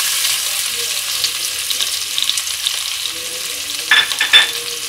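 Chopped onions fry in hot oil for a rui fish kalia, giving a steady close sizzle with occasional light stirring scrapes. A couple of sharper utensil clinks come near the end, and no one speaks.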